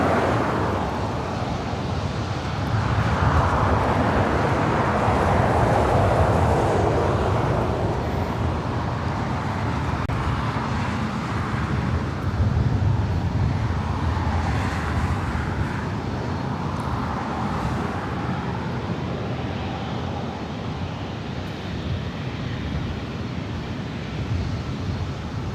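Southwest Airlines Boeing 737-700 arriving at LAX: a steady, broad jet roar that stays loud throughout, swelling slightly midway, blended with wind and airport background noise, no talking.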